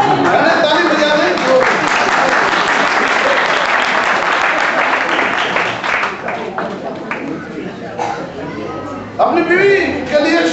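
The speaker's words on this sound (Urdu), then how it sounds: "بہنیں تالی بجا دیں" Loud, sustained applause from a large church crowd in Holland fills the air, tapering slightly toward the end as a voice begins to cut through.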